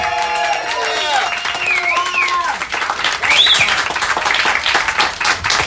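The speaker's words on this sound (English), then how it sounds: "please give one big, very round of applause to Pastor Arthur" An audience applauds Pastor Arthur Polowski at a speaking event in Pasadena, California, with loud continuous clapping mixed with cheers, whoops and voices throughout.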